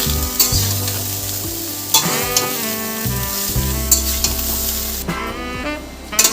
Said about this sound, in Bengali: সব সবজিগুলোই যা যা শুক্তোয় দেবো বলে কেটেছিলাম সবই দেওয়া হয়ে গেল এবার ভালো করে একটু সাতলানো দরকার